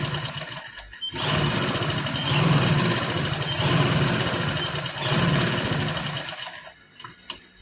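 A sewing machine stitches fabric in a rapid, continuous mechanical whir for several seconds, then stops, followed by a few small clicks.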